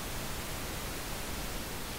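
Pink noise plays as a steady, dense, even hiss with deep fullness, unbroken and constant throughout without any variation.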